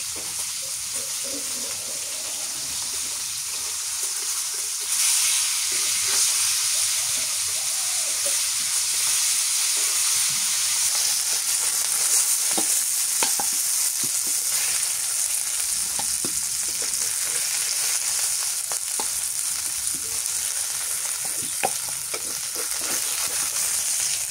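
Steady, loud sizzling and spattering of large red coral fish frying in hot oil, with a bright hiss and occasional crackles throughout and no voices.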